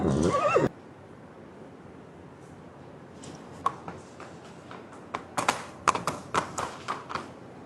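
A roughly twenty-year-old horse named Red Farangi at a stud farm gives a loud whinny at the start, then hooves and thuds knock irregularly in the yard.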